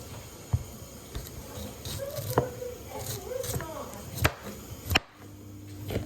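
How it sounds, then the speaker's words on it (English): A knife chops peeled, washed yam into cubes on a board, giving irregular knocks and taps close by, with a few sharper strikes and soft wet squishes between cuts. "enjoy this ASMR of me chopping the stuff"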